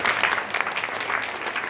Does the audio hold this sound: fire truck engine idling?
no